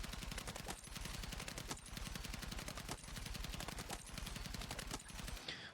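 Continuous rapid automatic fire from an M417 A2 rifle in the video game Battlefield 6, dense loud bursts of rattling shots with only brief breaks between strings, no voices over it.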